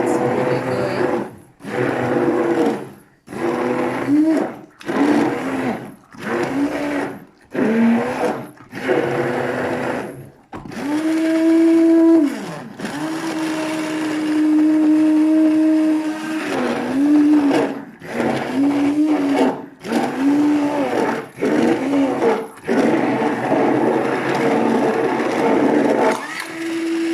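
An electric mixer whirring through cake batter, loud and close, running in short bursts that stop and restart before settling into a longer steady drone with brief pauses.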